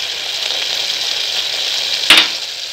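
Chillies sautéing in hot oil in a pan give a steady, close sizzle throughout, with a brief louder crackle near the end as the pan is stirred.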